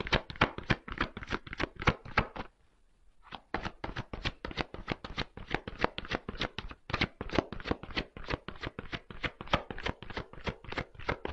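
Tarot cards are shuffled by hand close up in a fast, steady run of crisp papery riffles and taps, briefly pausing before continuing at the same even rhythm.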